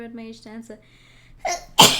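A single sharp sneeze bursts out near the end, close and loud, right after a stretch of speech.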